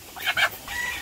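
Rhode Island Red chickens give a couple of short, close clucks, followed by a brief higher call, over a quiet background.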